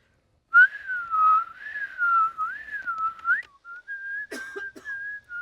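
A short tune is whistled: a wavering, sliding melody held for about three seconds, then a few higher steady notes and a brief chirp. The whistling is close, clear and alone, with no talking.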